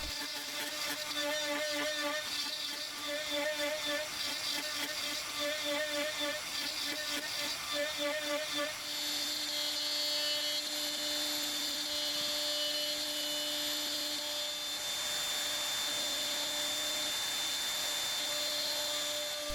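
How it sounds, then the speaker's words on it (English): A desktop 3018/3020 CNC fitted with a 4th axis trims a rough-cut wooden dowel to an even diameter, giving a continuous high spindle whine that pulses rhythmically at first, then holds a steadier, brighter tone. "I wanted to see how fast I could just trim a piece, make an equal diameter dowel from this rough cut one"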